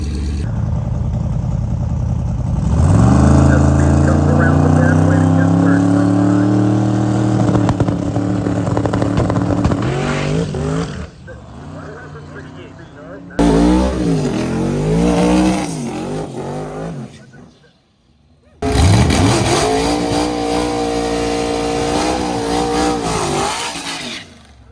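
Hot rod drag race cars at a drag strip event roar loudly through a run, engines revving and climbing in pitch in several bursts with brief lulls between them.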